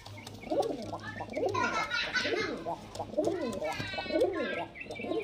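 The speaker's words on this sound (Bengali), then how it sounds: "এখানে দেখতে পাচ্ছেন মুর্শিদাবাদের গিরিবাজ লাইনের পায়রা" Murshidabad-line Giribaz pigeons coo steadily in a busy loft, their warbling calls rising and falling close by while voices murmur underneath.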